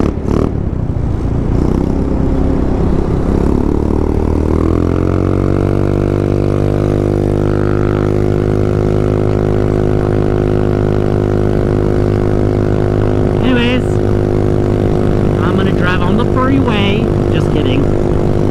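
Motorcycle with an NCY clutch accelerating hard from a stop on a ride home, a loud, close engine rising steadily in pitch and holding a strong high rev, with brief higher mechanical whines near the end.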